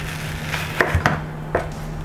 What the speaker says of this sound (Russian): Стараемся разрезать головку на три равные части – Приблизительно делим три части и аккуратненько режем.